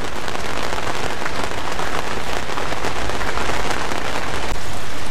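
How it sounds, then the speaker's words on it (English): Heavy rain pours down outdoors in Denmark, a loud, dense, steady hiss of drops hitting surfaces throughout, with no voices. "It's raining like crazy, as always here in Denmark."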